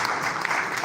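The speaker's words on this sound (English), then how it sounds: "We like to applaud the Honorable Minister once again." Applause for a government minister at an outdoor flagging-off ceremony for compensating property owners along the Lagos-Calabar coastal route, a short steady burst of clapping from a crowd with no break.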